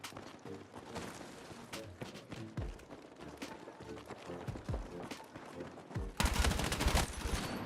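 Bursts of gunfire in Battlefield 6, sharp shots fired in a steady, moderately paced rhythm over background battle noise, ending in a louder close burst.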